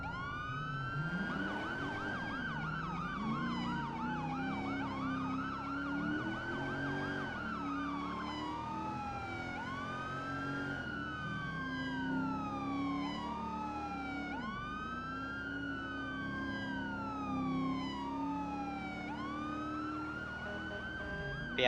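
A wailing police siren in a video game, from a sheriff's deputy vehicle, sweeps up and down repeatedly and steadily, layered with a second siren tone, continuous and fairly close with no talking.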